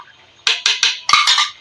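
A metal spoon knocks against a cooking pot while chicken korma with yogurt is stirred and fried, giving five sharp, close clanks in an uneven rhythm after a quiet start.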